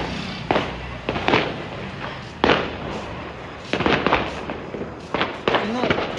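Diwali firecrackers burst outdoors in a series of sharp bangs and crackles, irregular pops spread across the span, close and loud with faint voices in between.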